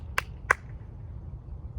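A single sharp hand clap during a Charleston stroll dance step; two crisp, close transients appear about a third of a second apart over a quiet room hum, with no talk.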